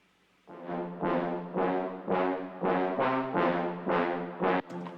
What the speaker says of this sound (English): We have this contact stock brass that sounds like this.